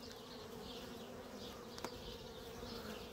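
Honeybees from a strong colony hum steadily at an opened hive in early spring, a continuous close buzzing swarm sound with no talking.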